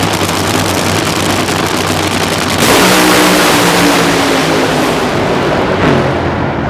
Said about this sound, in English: An explosion so loud it rocked Forrest to his knees.